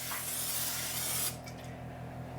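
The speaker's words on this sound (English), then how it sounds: "I'm going to use a little bit of Pam and just spray it lightly." Pam cooking spray hisses into a baking dish in one continuous close burst that cuts off abruptly, followed by a quiet room tone.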